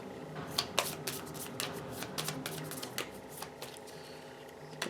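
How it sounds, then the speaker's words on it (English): A deck of cards is riffle-shuffled close up, giving several quick crisp bursts of ruffling card edges in a loose rhythm, with no talk. "Good shuffle."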